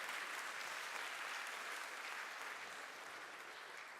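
Sustained applause from a convention audience at the Ropecon 2014 opening ceremony, a dense, even wash of many hands clapping that stays steady throughout and tapers slightly toward the end, fairly quiet overall.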